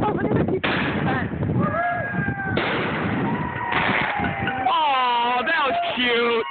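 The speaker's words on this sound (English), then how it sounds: "He's playing with fireworks." Fireworks boom and crackle on a New Year's night in a street, loud repeated bursts and rattling pops layered under people shouting and talking close by.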